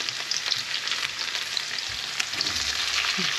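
Shrimp and garlic sizzle and fry in an oiled pan for teriyaki, a steady dense crackle close up with no voices.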